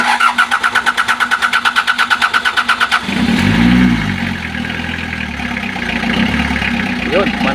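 A car engine cranks with a rapid rhythmic starter whir for about three seconds after an oil pump replacement, then catches and settles into a loud, steady idle close by.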